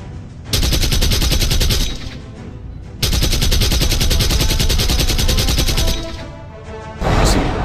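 Gunfire from an aircraft in Roblox Plane Crazy roars out in two long, loud, rapid bursts separated by a short pause, with the start of a third burst at the end.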